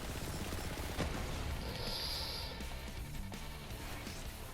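The Just Kaus SMG fires in Borderlands 3, a dense, continuous stream of rapid shots mixed with game effects, fairly quiet and steady throughout.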